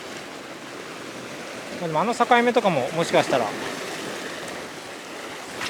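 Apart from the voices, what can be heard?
waves crashing against concrete tetrapods on the shore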